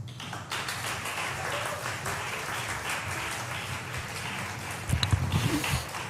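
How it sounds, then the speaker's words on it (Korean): A church congregation applauds at an evening worship service, a steady wash of many hands clapping at moderate distance that holds throughout, with a few louder, closer claps near the end. "목사님 나오실 때 뜨거운 박수 부탁드립니다"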